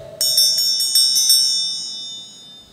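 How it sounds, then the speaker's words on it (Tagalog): A small metal hand bell rung in an office, with about six quick, bright strikes close by that leave a long ringing tail fading into quiet. "Unya, Brad, paraasa mo ning bell."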